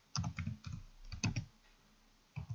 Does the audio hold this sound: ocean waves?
no